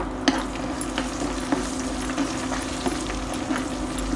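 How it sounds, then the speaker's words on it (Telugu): Mustard seeds and dry red chillies fry in hot oil for temple-style pulihora tempering, giving a steady, dense sizzle with small crackles and occasional spoon clicks against the pan. "అలాగే 1/2 స్పూన్ ఆవాలను కూడా వేసుకుని వేయించుకోవాలి"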